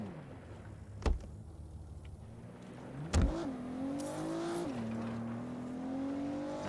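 A stolen car in a video game drives off with a steady engine note that rises as it accelerates, two sharp thumps or impacts along the way and a brief squeal, with no talk.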